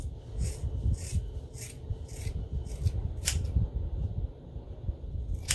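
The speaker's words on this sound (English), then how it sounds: "clamp it with my fingers like this and cut this excess hair off" Scissors snip repeatedly through hair clamped between fingers during a home haircut in a bathroom, a series of close, crisp cuts in an uneven rhythm over a low background rumble.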